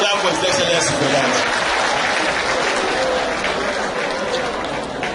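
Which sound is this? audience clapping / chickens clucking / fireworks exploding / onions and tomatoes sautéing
audience clapping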